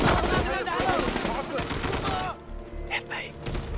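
Machine gun firing during a tense armed mission, a loud, dense fusillade of rapid overlapping shots with a heavy rumbling boom underneath, easing after a couple of seconds into scattered bursts and lingering echoes.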